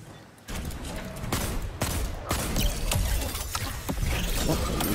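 Rapid bursts of video-game turret gunfire crackle loudly and almost continuously, with sharp individual shots standing out, all close and dense.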